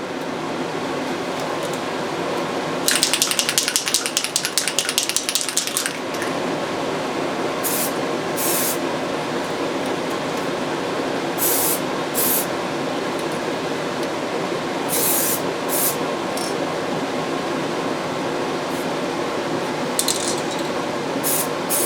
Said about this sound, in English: I'll just show you putting down the first really thin coat of this colour.